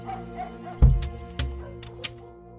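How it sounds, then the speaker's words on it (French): Village dogs barking and yelping at night in a dramatized true-crime radio retelling. Several sharp barks stand out over a low musical bed. "tous les chiens du village se mettent à hurler"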